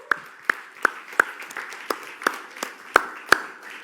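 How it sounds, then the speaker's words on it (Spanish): A church congregation claps in scattered, sparse applause, with a handful of distinct sharp claps spaced irregularly over a few seconds against a faint room background. "¿Cuántos pueden darle un aplauso a aquel que nos justifica?"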